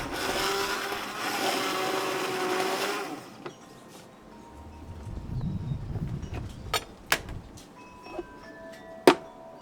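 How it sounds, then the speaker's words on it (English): A hand blender whirs loudly through coconut sugar syrup for about three seconds, then cuts out, leaving low rumbling stirring and a few sharp clinks and taps in the pot. "then we can use the hand blender and blend it"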